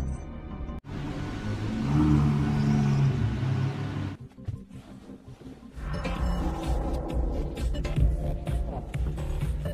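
A sports car pulls off and drives away in a film scene, its engine rumbling loudly and steadily, with a sharp break partway through before the engine noise resumes.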